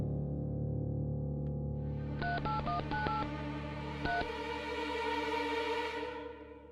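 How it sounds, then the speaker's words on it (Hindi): A run of touch-tone telephone dialing beeps in quick succession, a short pause, then one more tone, all over a steady low background hum. "उन्हें फोन लगाना चाहूंगा इलाहाबाद"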